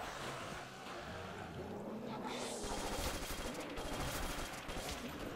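Rapid gunfire rattles through a custom zombie map in a first-person shooter game, bursts of shots layered over a dense, busy game soundscape at moderate level.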